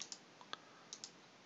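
Computer mouse clicks while working in Excel, a handful of faint, crisp clicks in loose pairs over soft background hiss.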